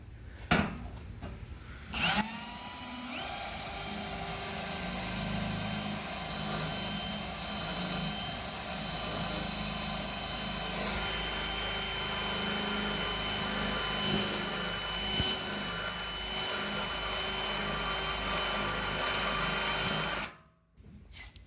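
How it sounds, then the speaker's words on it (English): A power drill bores out factory spot welds on a Nissan 240sx radiator core support, a loud continuous high-pitched whine with metallic grinding that runs steadily for about eighteen seconds before stopping abruptly. "factory spot welds, how easy they are to drill out"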